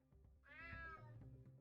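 A cat in the stealth game UnMetal gives a single drawn-out meow, rising then falling, heard faintly alone over a low game ambience.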